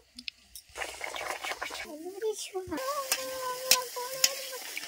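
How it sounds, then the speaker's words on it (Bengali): Nan puri deep-fries in hot oil, a soft bubbling sizzle with occasional stirring and utensil clinks near the pan, fairly quiet, with a few brief tonal squeaks over it. "এইভাবে আমি সবগুলো ভেজে নিচ্ছি।"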